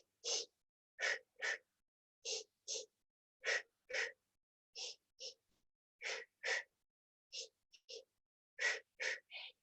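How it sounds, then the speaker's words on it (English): Short, rhythmic paired breaths for labour breathing practice, taken in and out in twos with brief gaps between, close to the listener and breathy, with no other sound behind them. "2 little breaths in, 2 little breaths out."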